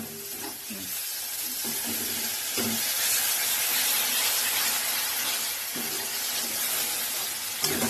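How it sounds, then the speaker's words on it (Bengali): Water poured into frying spice masala for an egg curry, a steady loud hiss and sizzle that holds for several seconds with faint bubbling underneath. "এবার এই পর্যায়ে জলটা দিয়ে দেবে।"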